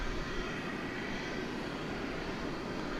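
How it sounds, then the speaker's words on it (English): A UPS MD-11 heavy freighter, the last MD-11 built, rumbles at DFW Airport at night with a steady, broadband jet engine roar that holds even throughout, moderately distant. "That is the last MD-11 ever built."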